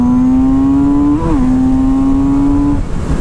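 Kawasaki Z900RS motorcycle pulling hard in second gear, a loud steady engine drone that rises briefly as it shifts pitch mid-pull, then holds strong before cutting off near the end.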